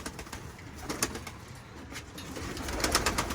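Pigeons cooing steadily in a loft during their heavy moult, soft repeated coos mixed with rustling and faint wing sounds, moderately close and continuous, with no talking.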